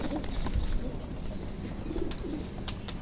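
A pigeon held in someone's hands gives soft, low cooing phrases close by, mixed with rustling and handling noise.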